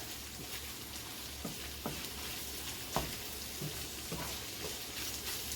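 Taco meat sears in a hot pan with a steady, even sizzle and crackle, broken by a few soft scrapes and taps of a spoon.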